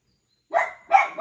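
A dog barks twice at close range, two loud separate barks about half a second apart with no voices over them.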